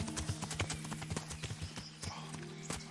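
Horse hooves clip-clopping in the medieval game Kingdom Come: Deliverance, a fast, steady trotting beat of hollow knocks, fairly quiet and continuous.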